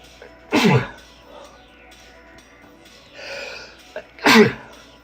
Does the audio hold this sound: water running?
no